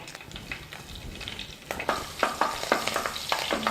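Cloves, cinnamon and green and dried chillies fry in a pan with a soft sizzle, then a spoon scrapes and stirs in several sharp, clattering strokes over the last two seconds.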